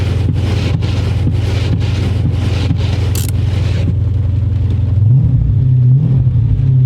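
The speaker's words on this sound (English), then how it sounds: "that SLP loudmouth with the BBK high flow cat mids, this car sounds so good" A loud car engine with an SLP Loudmouth aftermarket exhaust and BBK high-flow cat mid-pipes rumbles with a deep, throaty drone, pulsing briefly at first, then settling into a steady low idle up close, on a cold start.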